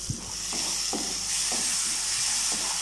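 Tomatoes and masala for egg kurma simmering in a covered pan, a steady soft sizzle and hiss with a few light knocks, no talk.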